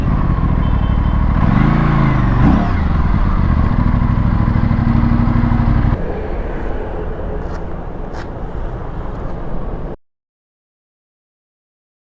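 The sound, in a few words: Aprilia RS457 motorcycle riding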